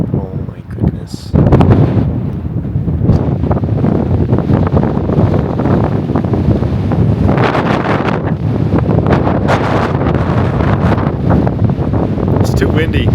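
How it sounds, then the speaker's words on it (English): Strong wind on a mountain summit trail in Utah's Henry Mountains buffets the microphone in loud, rumbling gusts that continue steadily, with faint talk mixed in beneath the roar. "It's too windy."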